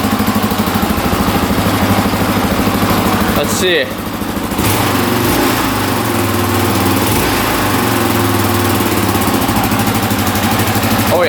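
A cold street-legal dirt bike engine idles loudly up close with a steady buzzing putter, a brief dip midway, while someone speaks briefly over it.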